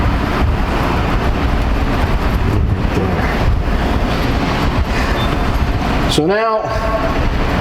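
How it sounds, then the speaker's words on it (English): A truck's air ride suspension is dumped, giving a sudden sharp burst of released air near the end over a steady, loud diesel idle rumble, with someone talking briefly. "Now we're going to drop the air ride to show you the difference."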